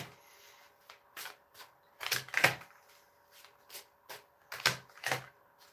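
Tarot cards are shuffled close by in a series of soft, papery riffling bursts, some louder and some fainter, separated by short quiet gaps.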